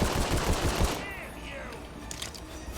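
Rapid automatic gunfire from the Tiny Tina's Wonderlands video game rattles loudly for about a second, then trails into scattered shots and zapping effects under a player's voice.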